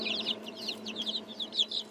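Silkie chickens and chicks, a rapid run of soft high peeping clucks over a low steady hum, close and fairly quiet.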